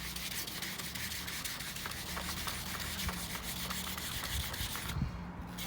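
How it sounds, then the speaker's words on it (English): Folded sandpaper rubs back and forth by hand across a lacquered fog light surround from a Fiesta ST180, a steady close scratchy sanding that continues without pause and ends abruptly near the finish. "just so I can get some good motion on it when I'm sanding it down"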